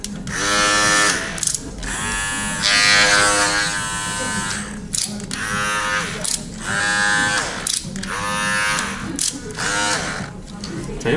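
A Panasonic 1511 hair clipper runs with a fresh replacement battery, giving a steady electric buzz with mechanical rattling. The tone swells and dips at intervals of roughly a second as the motor works. It is close and fairly loud.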